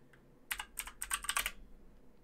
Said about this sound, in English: Excuse the loud keyboard.